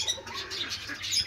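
Soft pigeon cooing murmurs faintly over a few seconds with light chirps mixed in; no talking.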